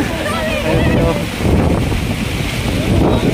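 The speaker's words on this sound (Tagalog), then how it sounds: "grabe, lakas ng hangin" Strong gusts during a sudden downpour in Manila roar into the microphone as a loud, continuous low rumble, rising and falling slightly in strength, with rain noise blended in.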